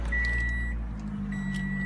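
A 2013 Toyota RAV4 Limited with push-button start runs close by with a steady low engine rumble, while a thin electronic chime tone sounds twice over it.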